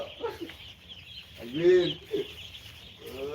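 Chickens cluck at a poultry farm, with short bursts of fowl calls rising and falling amid steady flock noise and a louder cluster midway, close by and moderately loud.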